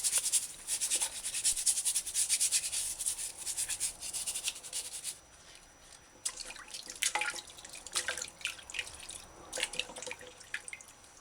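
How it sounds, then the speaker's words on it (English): A brush scrubs mildew off the stem of a blood whisk herb, giving close, uneven bristly rubbing strokes that come in bursts, pause briefly, then resume. "Use a brush, scrub stem clean"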